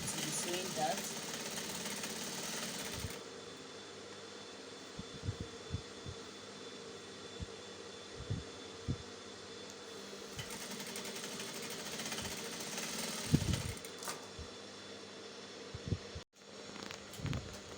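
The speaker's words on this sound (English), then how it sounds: "I'm just going to be sewing that." A sewing machine stitches the hem of an oversized kimono jacket, humming steadily and close by, with a pause and a few brief clicks partway through and an abrupt stop near the end.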